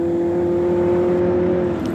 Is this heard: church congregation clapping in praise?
no